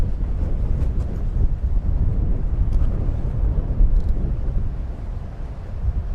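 Strong wind buffets the microphone outdoors on safari, a loud continuous low rumble with gusts that rise and fall throughout.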